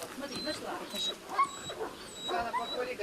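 A Belgian shepherd detection dog whimpers and yips during a search for hidden drug stashes, with short high whines repeating over a busy indoor background and speech nearby.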